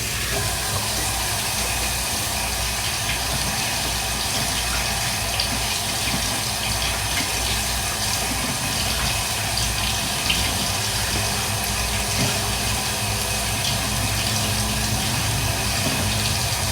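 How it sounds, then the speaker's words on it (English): A coffee stirrer is rinsed under a running kitchen tap, giving a steady, close rush of water that stays even and unbroken from start to finish, with no talking. "I'm gonna rinse off this stirrer."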